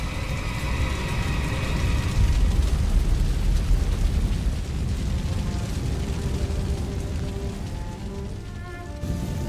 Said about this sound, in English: Wildfires can sweep across grassland at a rate of knots.